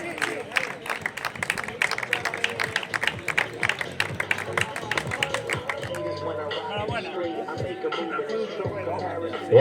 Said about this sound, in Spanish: Aí está, forte aplauso